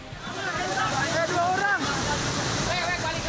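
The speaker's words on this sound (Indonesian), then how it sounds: "Banjir bandang akibat meluapnya aliran Sungai Citarik Cipencit di Cibuntu, Cicurug, Sukabumi, Jawa Barat membanjiri perkampungan warga." A flash flood from the overflowing Citarik Cipencit river rushes through a village in Cibuntu, Cicurug, Sukabumi, West Java, a loud churning roar of water with indistinct voices of people mixed beneath it.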